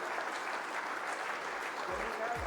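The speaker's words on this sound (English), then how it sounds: "A huge round of applause" Audience at a NASSCOM leadership forum event in India clapping: a continuous, fairly soft wash of applause from a seated crowd, steady throughout with a few low thumps near the end.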